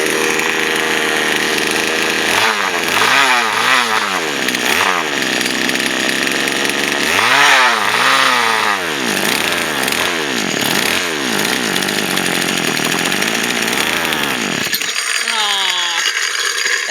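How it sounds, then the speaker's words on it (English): A Poulan Wild Thing two-stroke chainsaw engine with a broken motor mount and makeshift fuel tank runs loud and close, its buzzing note repeatedly revving up and dropping in wavering surges over steady mechanical rattle. "I got this engine running."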